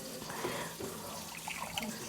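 Whole milk poured into a pizza dough mix in a home kitchen, a soft continuous liquid splash and trickle, faint and close, with light clinks near the end.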